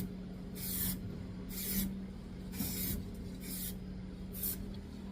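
Spray can applying light coats of paint to Saab 9-3 back plates: five distinct hissing bursts of about half a second each, evenly spaced, close and alone over a low steady hum.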